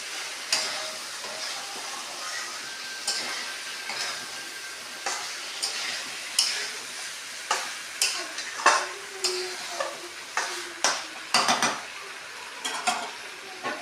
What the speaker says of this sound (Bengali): এখন লাড়া দিয়ে ভালো করে মিক্স করে দিচ্ছি।